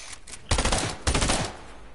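Two bursts of rapid gunfire from the video game Fortnite in Zone Wars mode, each about half a second, loud and close, with a faint background hum between them.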